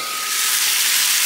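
Frozen wontons frying in a small frying pan, a dense steady sizzle and hiss of hot oil, close and continuous with no talk.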